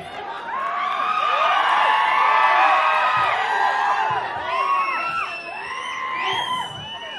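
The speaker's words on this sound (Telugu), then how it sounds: "దర్శన గారిని చప్పట్లతో వేదిక మీద ఆహ్వానం పలికేస్తున్నాం" An audience at the Paradha movie teaser launch event cheers, whoops and shouts excitedly to welcome actress Darshana Rajendran onto the stage, a loud crowd roar swelling and easing over several seconds.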